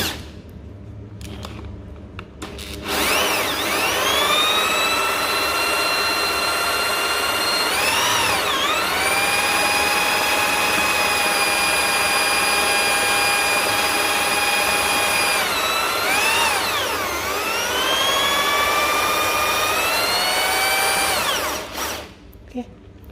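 A coffee grinder grinds fish feed, a steady loud motor whine with strong harmonic tones running for about twenty seconds, dipping briefly in pitch twice as the load changes, then cutting off abruptly.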